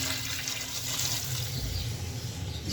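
Water pours steadily into a pot of fried meat being cooked for biryani, making a continuous close rushing splash with no pause.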